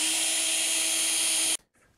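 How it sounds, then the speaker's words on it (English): A power drill bores a hole through a round wooden dowel stick about 1.5 inches thick, a steady loud whine running for about a second and a half before cutting off abruptly into near silence. "now I have one hole drilled, and I'm going to be drilling the other one."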